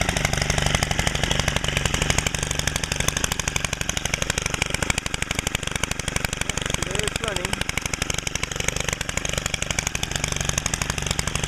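A Stihl FS90R gas string trimmer, freshly cold-started, idles with a fast, even small-engine putter, steady and close throughout, while a voice talks over it.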